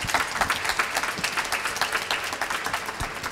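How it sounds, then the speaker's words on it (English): A conference audience gives two presenters a round of applause after a talk on crisis management, a lively, fairly close patter of many hands with distinct individual claps, sustained evenly throughout. "Please give a round of applause to Jeremy and Sarah."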